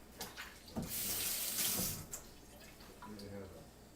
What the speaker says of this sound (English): Then we're going to put a little cold water in there.